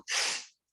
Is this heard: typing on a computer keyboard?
no